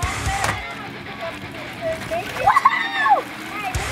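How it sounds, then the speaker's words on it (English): Water balloons burst and splash during an 800-balloon water fight outdoors. A few sudden wet smacks are heard, some louder and nearby, under lively children's voices shouting and talking. "right now we are having 800 balloon water fight"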